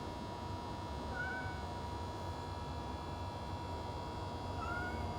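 Aging outdoor female cat, almost nine years old, gives two faint, brief meows a few seconds apart over steady background hiss and low rumble.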